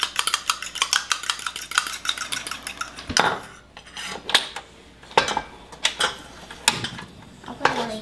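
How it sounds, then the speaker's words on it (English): A utensil stirs scrambled eggs in a pan, scraping and clinking against the metal in quick, irregular taps with a few louder knocks, close up and mostly alone. "Stir that. You're scrambling the eggs."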